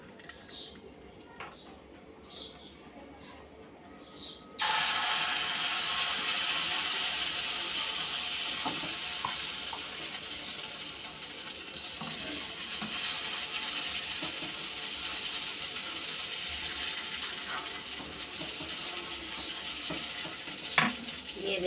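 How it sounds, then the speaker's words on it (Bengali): Rice-paste batter hits a hot wok with a sudden loud sizzle after a quieter stretch where pigeons coo in the background, then a steady frying hiss continues with occasional stirring knocks. "এই যে এখন কড়াটা বসিয়ে দিয়েছি, এখন এখানে ব্যাটারটা দিয়ে দেব।"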